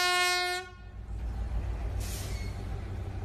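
A loud train horn blares briefly at a crossing in Russia, then a heavy rumbling of rail cars rolling past nearby, with a hiss of air brakes.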